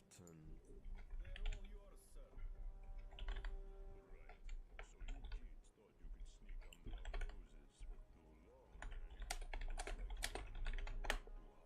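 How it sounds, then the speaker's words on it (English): Computer keyboard typing rattles in quick irregular bursts of clicky keystrokes, close and fairly clear, with a voice talking intermittently between and over the taps. "Yeah, you can hear me typing"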